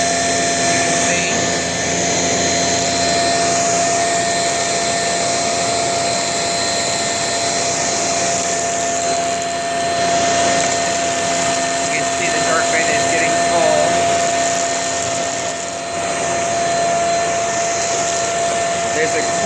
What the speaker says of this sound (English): It is sucking in the dirt before it gets to it.